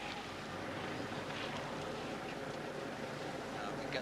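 Rough, choppy water is churned up where the tide meets a headwind on the Thames Tideway during the 1983 Oxford vs Cambridge Boat Race, heard as a continuous broadband wash with wind noise and no distinct strokes.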